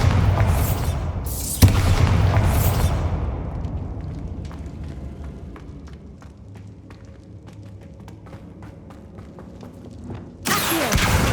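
Bombarda blasting spell explosions in Hogwarts Legacy: several loud booming bursts close together at the start, a quieter stretch with faint ticking clicks, then another heavy blast near the end.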